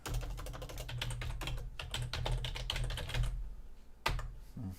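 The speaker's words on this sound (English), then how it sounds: "I'm typing away on my other screen here." Steady, rapid typing on a computer keyboard, close and continuous, with a brief pause and a couple of louder keystrokes near the end.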